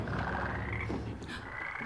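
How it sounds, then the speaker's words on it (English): Frogs croak steadily in a dense chorus, a continuous layered rasping and trilling held at a moderate, even level throughout, with no voices over it, heard in a scene from the TV series Fringe. "Okay, it's just frogs."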